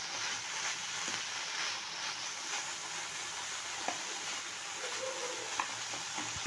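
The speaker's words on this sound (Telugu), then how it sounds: "మొత్తం కలిపి కొంచెం వేగనిద్దాం, కొద్దిసేపు బాగా మగ్గనిద్దాం." Steady, even sizzling of coriander leaves frying in a pan, with a couple of faint utensil clicks; no voices.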